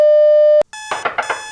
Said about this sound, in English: Your alarm and your 3 backup alarms went off already.